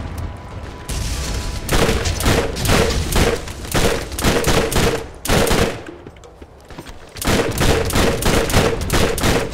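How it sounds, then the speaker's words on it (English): Submachine gun fire in the Borderlands video game, rapid bursts of automatic shots in several repeated volleys, loud and close, with short pauses between strings and no talk. "Who says submachine guns can't be accurate?"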